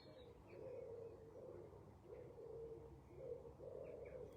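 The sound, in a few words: pigeons cooing while roosting at dusk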